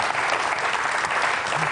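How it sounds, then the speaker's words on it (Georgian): Audience applause at a comedy show: a dense, steady burst of clapping from a crowd that fills the room and holds at an even level throughout. "აპლოდისმენტები ბატონებო"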